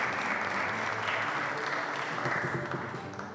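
An audience at an official ceremony for the Emir of Qatar's visit and agreement signing breaks into dense, sustained applause that holds steady and then begins to taper off near the end.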